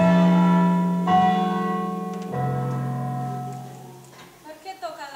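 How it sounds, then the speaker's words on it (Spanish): Bells ring out on stage during a school theatre play set in a warriors' camp, sustained tones struck a few times in succession and fading away, with voices following faintly afterward. "¿Por qué tocan las campanas?"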